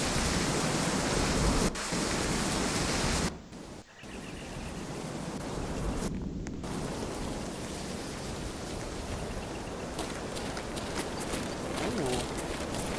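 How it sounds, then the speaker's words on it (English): Steady rain falling in a video game, a dense, continuous hiss that briefly dips and returns, with a person talking over it. "Why is it always raining everywhere in every game"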